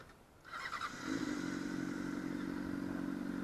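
A Honda CBR 600RR sport motorcycle starts up: a brief starter crank and clatter, then the engine catches and settles into a steady, close idle.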